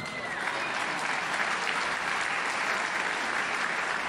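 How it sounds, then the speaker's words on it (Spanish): Audience applause at a comedy show, a dense, steady wash of many hands clapping close by that holds evenly for the whole stretch, with no voices on top. "Un aplauso para las brujas."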